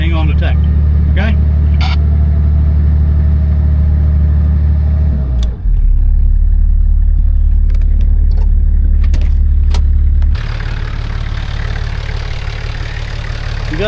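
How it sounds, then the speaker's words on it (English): A vehicle engine idles and drones loudly during a steep hillside off-road recovery while a winch works, with a pause and a change in engine tone partway through and a voice speaking over the steady rumble. "We'll keep winching."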